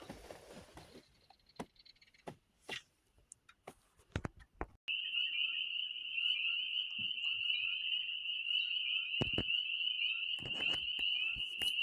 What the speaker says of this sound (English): Trying to enjoy the frogs out here.